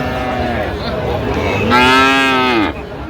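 A young Friesian or crossbred heifer calf lets out one loud, drawn-out moo partway through, against a low background murmur at a cattle market in Raniganj.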